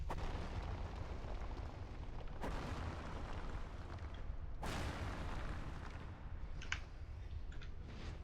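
Coal tar in Dark Souls 2 ignited by a fire shortbow arrow: two sudden loud bursts a couple of seconds apart, each followed by a crackling, roaring fiery wash, then a few faint clicks.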